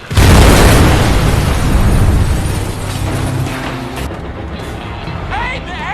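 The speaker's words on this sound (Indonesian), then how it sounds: "terjadi ledakan akibat truk berisi penuh minyak" A truck full of oil explodes in a film scene, a loud sudden boom that roars and rumbles for several seconds before gradually thinning out.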